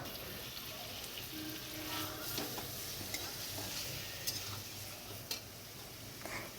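Meat being mixed with spices in a pan at a village kitchen, giving a steady low scraping stir with faint sizzling and occasional small ticks throughout, with no talking.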